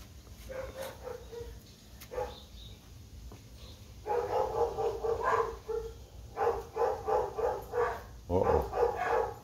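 Several dogs bark at people walking a dog past the house, a run of repeated rhythmic barks that grows louder and steadier after a few scattered yips, heard from indoors in a workshop.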